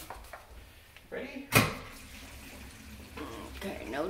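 Water runs and splashes during a drain test on a plumbing fitting rated to drain 1.2 gallons per hour, with a sharp knock or clunk midway and indistinct voices murmuring in the background.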